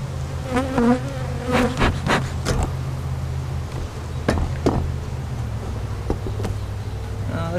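Loud, close buzzing of honeybees swarming over the microphone, a steady drone broken by sharp bumps and crackles as they brush past.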